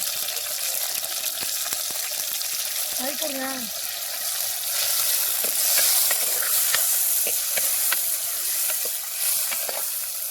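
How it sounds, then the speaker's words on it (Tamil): Tomatoes and onions sautéing in a pan, a steady close sizzle under stirring scrapes, with a voice briefly speaking over it. "தக்காளி வெங்காயம் நல்லா வதங்கிடுச்சு"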